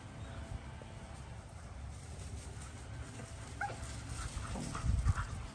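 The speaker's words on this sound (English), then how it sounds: "we got the puppies out today" Puppies let out from their kennels in a yard whimper and yip faintly in brief scattered bursts, with a louder close yelp near the end over steady low background rumble.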